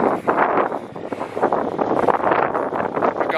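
Steady wind gusts across an open field at a snow goose hunt in Alberta, a rough continuous rumble buffeting the microphone, loud and close with no clear talk.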